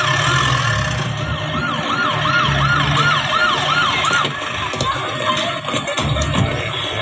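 An ambulance siren wailing in a repeating rising-and-falling pattern while stuck in heavy traffic, loud and continuous over dense street noise and engine rumble.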